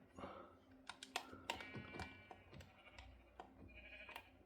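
Sheep bleat in the video game Minecraft, a few short, quiet bleats mixed in among brisk computer keyboard typing and clicking, with no talking.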